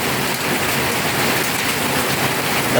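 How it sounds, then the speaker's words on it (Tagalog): Heavy rain pours down steadily in the Philippines, a dense, loud hiss of drops hitting surfaces nearby with no pauses, with some wind. "Lakas ng ulan guys"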